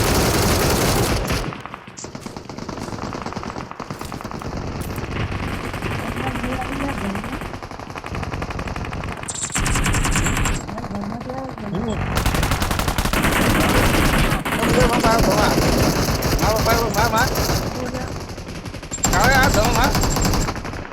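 Loud automatic gunfire from the BGMI mobile battle royale game (3.6 update) rattles in repeated rapid bursts with short pauses, while players' voices are heard intermittently between shots.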